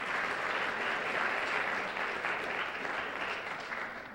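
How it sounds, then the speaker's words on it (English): Dense audience applause for guests and sponsors at an early-education speaker series event, a loud continuous patter that holds steady and tapers slightly toward the end. "please, a round of applause for all of our guests and for our sponsors"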